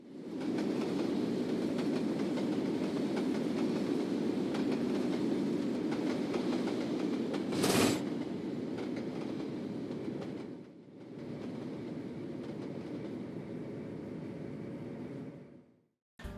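A freight train hauling tank cars and empty auto racks rolls past at close range with a steady rumble and rattle of cars and brief wheel clatter. A short break falls midway, then the roar resumes before stopping abruptly.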